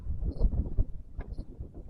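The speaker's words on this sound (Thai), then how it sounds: "ลมจัดครับ" Strong wind gusts buffet the microphone outdoors at night beside water while long fishing lines are being set, a low uneven rumble with brief louder bursts and no talking.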